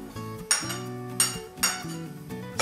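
Yeast and sugar are tipped into a small bowl while making a yeast starter for dough, giving several close clinks and taps of utensils against the bowl, spaced roughly every half second, over a low hum of background music.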